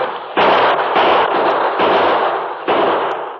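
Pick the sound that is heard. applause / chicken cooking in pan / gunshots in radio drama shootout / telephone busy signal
gunshots in radio drama shootout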